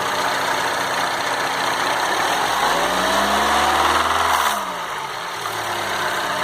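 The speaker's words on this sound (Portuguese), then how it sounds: "Dá uma aceleradinha de leve aí." A Citroën C4 Lounge THP engine gets a light blip of the throttle, its steady idle rising in pitch and then settling back down, loud and close, with no talking.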